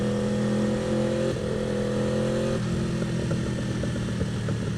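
An Aprilia RSV4 Factory motorcycle engine roars close by at high revs, its pitch shifting as it runs through the gears, loud and continuous.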